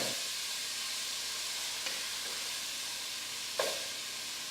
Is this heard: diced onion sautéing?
yes